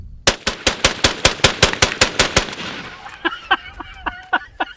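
A machine gun fires a rapid burst of about thirteen sharp, loud shots from a 50-round belt at roughly 350 to 400 rounds per minute, then the shots echo and ring off the surroundings before fading.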